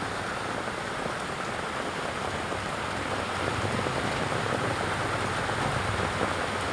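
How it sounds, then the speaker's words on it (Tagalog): Heavy rain pours steadily onto surfaces, a dense, loud, unbroken hiss with a faint low rumble underneath and no voices. "Kasi ang ulan, oh."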